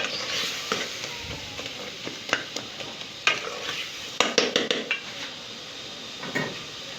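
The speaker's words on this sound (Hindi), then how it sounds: "अभी मैं चम्मच चला रही हूँ" A metal spoon scrapes and knocks around a pan of masala fish curry gravy with softened tomatoes, giving a run of close, irregular clinks and scrapes over a low sizzle, with no talking.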